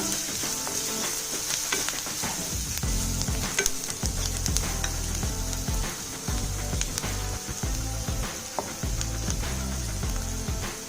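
Cauliflower and garam masala sizzle steadily in hot oil in a pan of cauliflower podimas, with a spoon stirring and scraping throughout and no voice.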